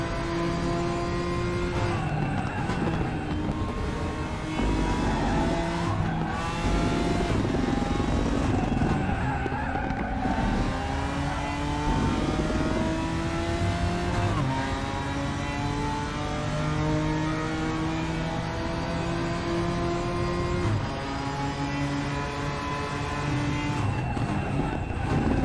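GT4 race car engines rev hard and loud through a continuous stretch of RaceRoom racing, with rising and falling gear pulls, tyre skids and other cars passing close by.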